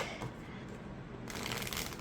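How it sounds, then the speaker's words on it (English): A gilded tarot deck is riffle shuffled, a brief soft ruffle followed by a louder crisp burst of cards flapping together up close, with no speech. "some people probably wouldn't riffle shuffle gilded decks, but I like riffle shuffling all of my decks"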